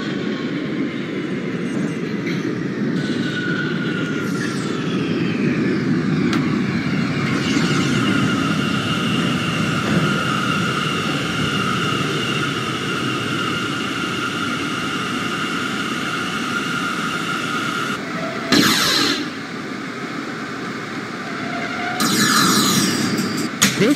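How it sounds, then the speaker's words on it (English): An R179 subway train in the OpenBVE simulator runs steadily with a loud, continuous rumble and rolling noise, a sustained motor whine layered on top, and a few brief bursts of brake or air hiss near the end. "This is a Brooklyn-bound C local train."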